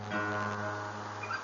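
An acoustic guitar in standard tuning rings out with a sustained strummed chord, its notes holding steady and clear for the whole stretch with no voices over it.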